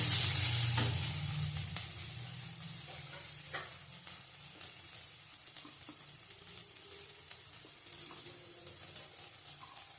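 Close, steady sizzling of onions frying in hot oil for aloo dum, with occasional stirring scrapes. A louder burst of sizzle at the start settles into a softer, continuous crackle.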